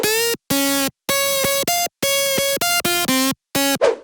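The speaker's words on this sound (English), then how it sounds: "So after adding gliding notes, it sounds like this." A loud, bright future house synth lead plays a choppy melody of sustained notes with gliding portamento between pitches, its short phrases cut by brief gaps, and a noisy swoosh closes the line.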